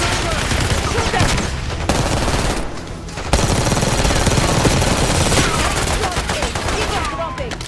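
Continuous heavy gunfire fills a Call of Duty Black Ops 6 cutscene, with dense automatic bursts and a brief lull, loud and close, with voices mixed in.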